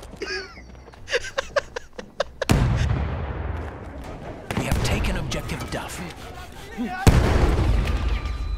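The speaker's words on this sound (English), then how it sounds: "that grenade went up right next to me" Loud, close grenade and explosive blasts in the World War I shooter Battlefield 1, with three heavy booming bursts amid scattered gunfire pops.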